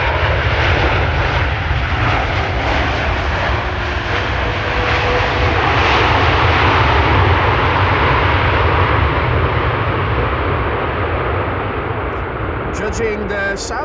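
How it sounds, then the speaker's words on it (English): An Airbus A330neo jet arriving at Amsterdam Schiphol after a flight from Atlanta makes a loud, steady roar throughout, with a broad rumble and a slowly falling whine as it rolls out on landing. "Delta Airlines Flight 74 arriving from Atlanta, Georgia, A330 Neo."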